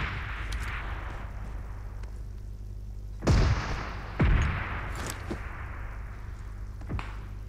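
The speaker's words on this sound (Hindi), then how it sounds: "इसलिए मैंने एयर स्ट्राइक कर दिया" Two heavy air strike explosions land in PUBG Mobile, each a loud booming blast with a rumbling tail, set against a steady low background hum and a few fainter distant shots.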